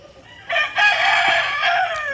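An asil/shamo-breed rooster crows loudly and close by in one long, drawn-out call that starts after a brief quiet moment, with no talking.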